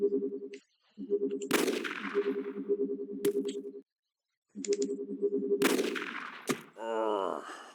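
Gunshots in the Jagged Alliance 2 video game: two sharp, loud cracks, each set against a rhythmic mechanical pulsing loop that cuts out and returns, followed by a brief rising whoosh-like effect at the end.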